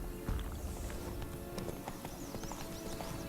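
Roach the horse galloping in The Witcher 3, quick rhythmic hoofbeats on the ground with soft clip-clop and a faint whinny over a steady game ambience, moderately loud and close.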